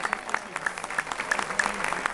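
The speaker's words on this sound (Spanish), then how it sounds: "un aplauso fuerte de verdad." Brief, scattered applause from an audience for a school dance group at a folk festival performance, individual claps audible in a loose rhythm, with speech blended in.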